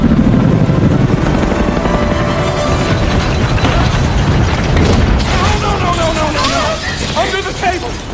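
Helicopter rotor and engine roar inside a chaotic 2015 San Andreas earthquake film scene, a dense, loud rumble mixed with booms and debris noise, with voices talking over it in the later part.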